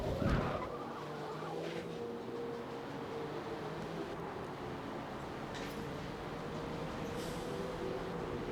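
Pink Porsche race car in Forza Motorsport 7, its engine holding a steady, continuous drone with tire skids and noise around it, loud and sustained throughout.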